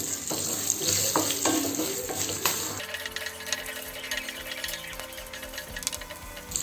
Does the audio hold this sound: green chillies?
yes